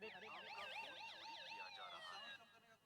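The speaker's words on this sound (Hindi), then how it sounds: "सायरन बज" A loud phone anti-theft alarm siren wails in rapid rising-and-falling sweeps at an expo stall, then glides into a steady tone before cutting off.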